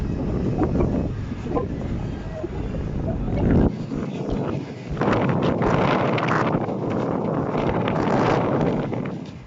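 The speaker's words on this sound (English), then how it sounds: "it's quite windy today and you won't be able to hear a word I'm saying unless I keep out the breeze" Wind buffets the open top deck of a boat on a trip to Lixouri, a steady broadband roar with heavier gusts toward the end, loud and close against the microphone.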